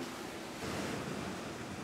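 Baltic Sea waves at Liepaja, Latvia, make a broad, soft surf wash that swells briefly midway, faint and distant-sounding, with some wind noise and no voices.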